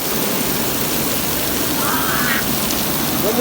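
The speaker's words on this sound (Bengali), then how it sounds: "এই বৃষ্টি মনে করো ভাই বৃষ্টিটা প্রচুর দিচ্ছে" Heavy rain pouring down steadily at a volleyball stadium in Gulistan, Dhaka, a dense, loud wash of noise with a brief faint whistle-like tone partway through.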